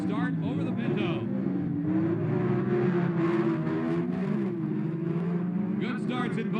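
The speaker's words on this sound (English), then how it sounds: "The Pinto powered by the six-cylinder engine, the quicker of the two cars, as the V8 of Lee Shepherd, a very heavy car" At a drag race, a six-cylinder 1974 Ford Pinto and a heavy V8 car roar under an announcer's continuous commentary, their engine drone heard at a distance, behind the voice.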